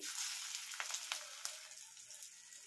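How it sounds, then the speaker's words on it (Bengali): Pakoras frying in hot oil, a close, steady hiss and sizzle with small crackling pops scattered throughout. "তো তেলটা আমার গরম হয়ে গেছে। তো এক এক করে আমি পকোড়াগুলো ছেড়ে দিচ্ছি।"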